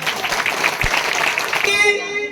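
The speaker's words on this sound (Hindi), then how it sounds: "जोर से ताली बजाएं" Applause from a church congregation during a sermon on the blood of Jesus; lively clapping runs for a couple of seconds before a sustained musical tone takes over at the end.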